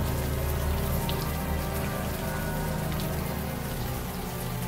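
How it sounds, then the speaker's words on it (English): Warm rain pours down in the open air in the game Unavowed, a dense, steady patter of drops on surfaces that hisses evenly throughout without pause or voices. "Now that it's out in the open air, the warm rain is coming down."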